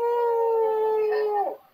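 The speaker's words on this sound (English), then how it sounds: "That's the sound of a Cash App donation." A Cash App donation alert sounds during a livestream: a sustained, bright two-tone electronic tone with rich harmonics, steady for over a second before sliding downward and cutting off, heard alone.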